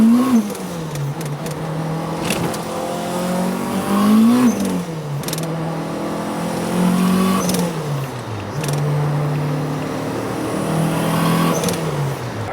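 A Honda Civic EK9 engine revs hard and repeatedly into VTEC, its pitch climbing and dropping through gear changes, loud and close as if heard from inside the car.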